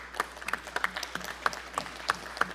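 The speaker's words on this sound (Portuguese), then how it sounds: "eu peço uma salva de palmas" Scattered, fairly faint clapping from a small group in a plenary chamber session, welcoming a visiting delegation from Upper Austria, with a dozen or so distinct claps over a couple of seconds.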